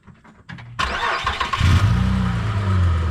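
A car engine cranks over and catches, a short starter whir that swells into a loud, close running rumble, no voices, during checks for a stuck front brake caliper.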